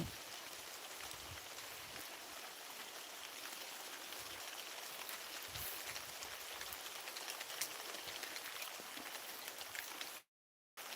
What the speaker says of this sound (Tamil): அப்படியே மழை தூரல் விழுந்துட்டு இருக்கு